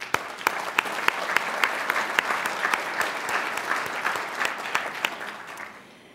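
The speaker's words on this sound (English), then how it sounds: "Please give all of our sponsors a round of applause." Audience applause at a mayors' winter meeting plenary session in a hotel, a dense steady clapping from a large crowd that carries on for several seconds before fading out at the end.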